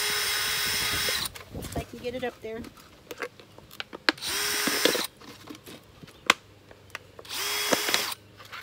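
Short bursts of a power drill whine through a plastic planter, three or four separate runs with pauses between, while a person talks and handles the container in the gaps.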